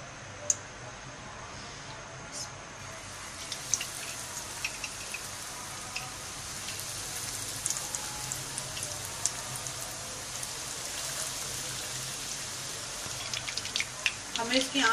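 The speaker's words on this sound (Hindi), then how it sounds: "अभी इन्हें फ्राई करेंगे। तेल गरम हो चुका है हमारा।" Chicken bread wheel pieces fry in hot oil over medium heat, a faint continuous crackle and patter with scattered sharp pops that grow busier toward the end, under quiet background.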